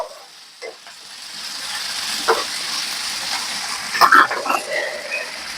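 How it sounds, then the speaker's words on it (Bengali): Lauki and moong dal with green peas stirred in a pan, a steady soft sizzle with scraping spoon strokes and a brief louder clatter near the end, no talking. "আবারও সমস্ত কিছুর সাথে একটু মিশিয়ে নেব।"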